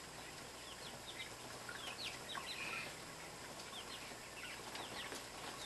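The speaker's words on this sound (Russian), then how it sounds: "то что тут у меня за порхающие птички разлетались?" Young chicks fluttering and flapping about indoors, soft wing flutters mixed with faint high peeps and chirps scattered across a quiet room hiss, fairly close but low in level.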